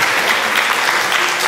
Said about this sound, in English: You should hold your applause.